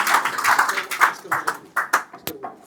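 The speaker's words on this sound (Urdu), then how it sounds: "اَکہِ لٹہِ کٔرِو زوردار تالیاں" Audience clapping at a construction company's special event, a burst of hand claps in uneven rhythm, fairly close and moderately loud, with a few sharper isolated claps near the end.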